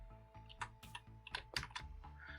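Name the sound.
typing code on computer keyboard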